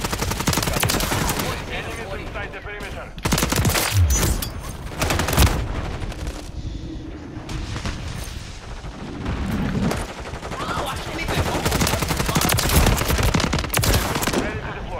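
Rapid bursts of automatic gunfire and scattered shots fill a Call of Duty multiplayer match, loud and dense throughout, with a player talking over the shooting.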